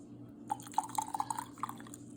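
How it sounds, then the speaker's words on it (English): Rose water trickling and dripping into a glass jar, a quiet run of small splashes and drips over about two seconds with no talking. "So now we're just taking the rose water and put it in a glass jar."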